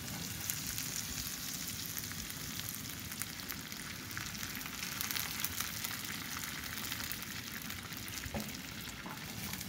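Dry wine sizzling and crackling steadily in a hot pan during cooking of salmon with shrimp minestrone, a bright continuous hiss of fine pops close to the pan, fairly quiet and without any talk.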